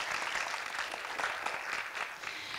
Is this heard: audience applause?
yes